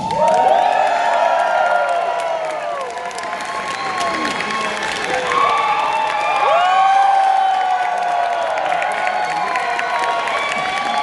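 A large convention crowd at Power Morphicon 2022 cheers, whoops and shouts loudly and continuously for a Power Rangers Time Force panel, with clapping and high excited yells throughout.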